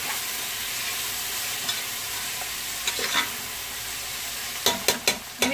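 Carrots and potatoes fry in a pan for vegetable biryani, giving a steady broadband sizzle throughout, with a few sharp clicks and scrapes of stirring near the end.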